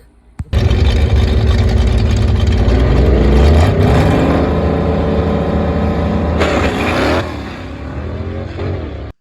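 After a brief quiet start, a 4-speed Spirit GT race car's engine fires up and runs loud and close at the track, rumbling with rising and falling revs, then settles slightly before cutting off abruptly at the end.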